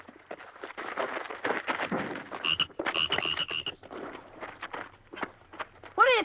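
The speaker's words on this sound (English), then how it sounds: "That's a toad." A toad croaks in a short rasping series outdoors while children talk excitedly and footsteps shuffle nearby, the croaks coming in brief bursts amid the chatter.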